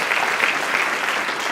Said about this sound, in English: So please give your appreciation and a big round of applause to Diane Hageman.